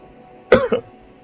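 A single short, close human cough in two quick chesty bursts, heard alone against a quiet background.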